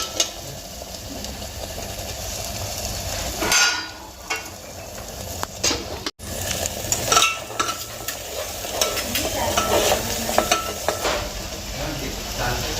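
Masala frying in oil in a pan as it is stirred, for stuffed brinjal curry: a continuous close sizzle with repeated spoon scraping and stirring strokes throughout.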